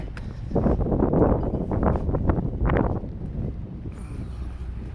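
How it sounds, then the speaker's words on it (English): Wind buffets a microphone during a cold midday walk downtown, producing low, rumbling gusts. The gusts swell loudly through the first few seconds, then ease to a softer steady rush. "we don't want the wind blowing on us if we can help it"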